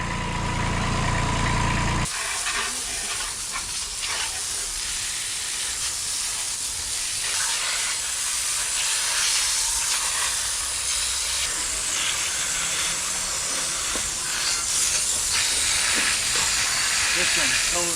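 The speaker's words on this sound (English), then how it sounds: "We'll probably hose it off." Water spraying from a hose onto a Kubota B7100 compact tractor, giving a steady loud hiss that fills the whole stretch after a brief lower-pitched start, with faint voices now and then underneath.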